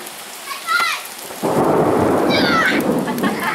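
Thunder rumbles through a steady rainstorm at a farm stand under construction, the downpour swelling loud and close after a brief quieter start, with a few faint chirps and no speech.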